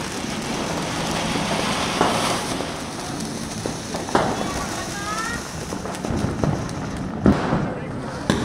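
Diwali firecrackers bursting at night, a series of sharp cracks and pops at irregular intervals over a dense, noisy festive background with people talking nearby.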